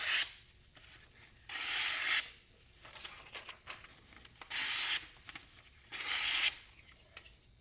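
A Spyderco Manix 2 LW knife edge cuts through material in repeated long rasping strokes, about five loud scraping passes separated by short quieter pauses, close and alone.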